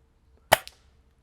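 A single sharp crack from an M99 Barrett Snow Wolf airsoft sniper rifle fired outdoors on a slope toward a target, with a quick faint echoing tail right after.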